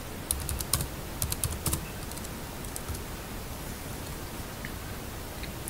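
Fingers type a PIN on a computer keyboard: a quick cluster of crisp, close key clicks at the start, then a few scattered single taps over faint background hiss.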